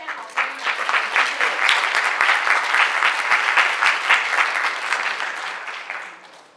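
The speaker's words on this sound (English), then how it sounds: "let's give them another round of applause for their wonderful comments" Audience applause at a public forum on abortion protections in Tennessee, a dense wash of clapping from a crowd that swells quickly, holds steady for several seconds, then tapers off toward the end.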